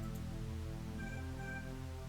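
A cat in a video game gives a short, clear meow that rises and falls over a quiet, steady tonal backdrop.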